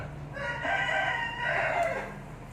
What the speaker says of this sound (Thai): เป็นไก่หนุ่มเจ็ดเดือนครับตัวนี้